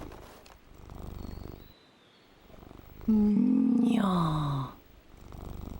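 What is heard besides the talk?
cat purring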